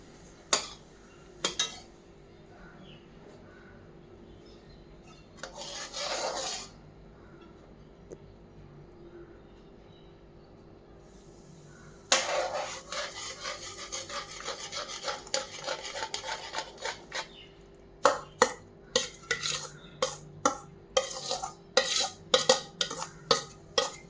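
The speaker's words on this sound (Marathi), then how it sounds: "आपण यात आता भाजलेला रवा मिक्स करूया." Roasted semolina being stirred into sugar syrup for rava ladoo, giving bursts of gritty rasping scrapes from a spoon against the pan, separated by quiet pauses and ending in quick repeated strokes.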